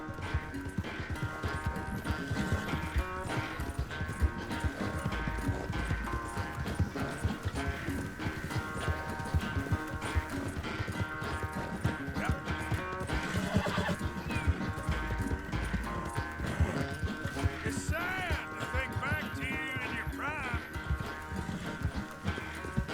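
Horse galloping during a race in the video game Red Dead Redemption 2, with continuous rhythmic hoofbeats, occasional neighs and game music underneath, no clear talk over it.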